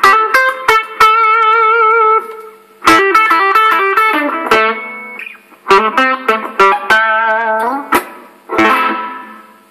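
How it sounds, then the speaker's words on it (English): Distorted electric guitar playing chords and riffs in bursts, each ringing briefly with a short, natural-sounding room reverb tail from a Digitech Hardwire RV-7 reverb pedal on its room setting. "So quite a short reverb."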